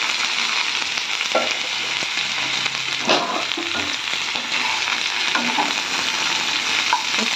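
Bitter gourd frying in hot oil, a loud continuous close-up sizzle and crackle with occasional stirring knocks throughout, no voices.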